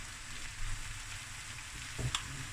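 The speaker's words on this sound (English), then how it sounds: "now we're going to add 4 cups of cooked rice" Cooked rice tipped into a pan of sizzling prawns and lentils, a steady frying hiss with a couple of brief stirring scrapes and clatters as the grains hit the hot oil.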